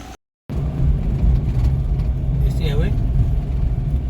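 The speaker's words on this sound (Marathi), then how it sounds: "आपली गाडी आलेली आहे आता आपण निघूया" A car engine idles and rolls along nearby in a steady, continuous drone after a brief silent gap at the start, with a faint passing whine partway through.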